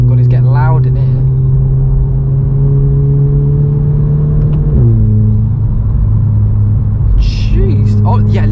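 The engine of a Volkswagen Scirocco with a DSG gearbox drones loudly and steadily from inside the cabin while it drives, then drops in pitch as it shifts, with brief voices near the start and end.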